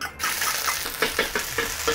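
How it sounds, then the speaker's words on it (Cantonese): Ginger frying in hot oil in a heated wok, a steady close sizzle with rhythmic bursts of scraping and stirring roughly every fraction of a second, no voices. "咁我哋咧就燒熱咗個鑊啦吓，然後咧落啲油啦，爆香啲薑先"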